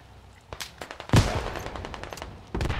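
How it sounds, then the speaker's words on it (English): Rockets and heavy weapons fire in the military video game Squad, with a quick series of sharp shots and one large blast followed by a rumbling tail, then another burst. "We're just firing all the rockets at them."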